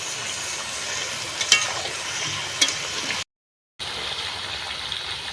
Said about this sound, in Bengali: মাংস আর আলু ভাজা ভাজা হয়ে গেছে